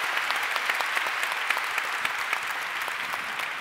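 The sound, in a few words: audience applause for a performer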